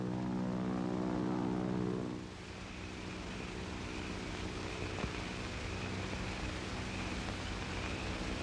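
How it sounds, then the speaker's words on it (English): A propeller airplane drones overhead in a 1940s jungle adventure setting, a steady broad engine rumble that stays constant after a louder opening moment, with no voices over it. "Do you hear a plane?"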